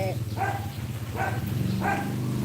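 A dog barks three times at a steady pace while running after its owner outdoors near a road, the barks moderately distant over a constant low hum.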